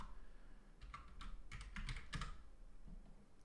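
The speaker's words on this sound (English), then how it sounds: "you can also type EZCA" Quiet bursts of typing on a computer keyboard, a short run of light clicking keystrokes clustered in the middle, close by and alone with no talking.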